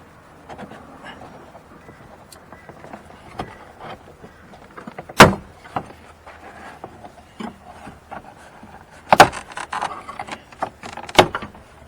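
Plastic door card clips on a 1999 Mitsubishi Lancer snap loose under a pry tool: three sharp, loud pops spaced a few seconds apart, over steady rubbing and scraping of trim, with no talking.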